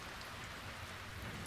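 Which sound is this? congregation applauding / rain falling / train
rain falling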